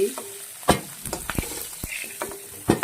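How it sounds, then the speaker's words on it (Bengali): Hot oil sizzles and crackles steadily as a fish head fries, with several sharp pops and spatters scattered throughout and no voices. "মাছের মাথাটা ভাজা হয়ে গেছে ভেজে নিলাম"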